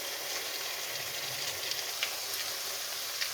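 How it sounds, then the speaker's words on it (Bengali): Garlic paste sizzling in hot oil in a pan while cooking Bengali egg curry, a steady, close, even frying hiss that holds all the way through with a few faint crackles. "2-3 মিনিট ভেজে নেব।"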